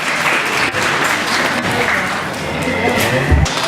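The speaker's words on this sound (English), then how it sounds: "Let's give them both a round of applause" Applause from the crowd at a county FFA alumni livestock show after a heifer class, a steady close wash of clapping lasting the whole stretch with some low rumble underneath.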